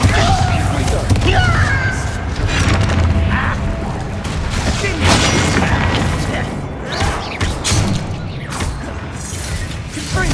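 Repeated Bombarda spell explosions in the Hogwarts Legacy video game, with heavy booms, crashes and whooshing debris rolling on through a chaotic combat stretch, mixed with game voices and effects.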